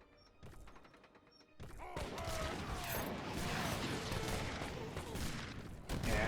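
A fixed gun fires in Age of Empires 3 amid a busy battle, with dense overlapping volleys, thuds and booms rolling continuously beneath the mix.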